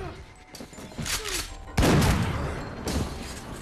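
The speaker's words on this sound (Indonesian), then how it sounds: "alih-alih langsung menembak kepala Gary, ia malah menembak kantung menyan pria itu, dan kemudian menembak 2 kali di tubuhnya." Gunshots from a shotgun in a film scene come as a few heavy booms, the loudest midway, mixed with thuds and movement noise under a soundtrack.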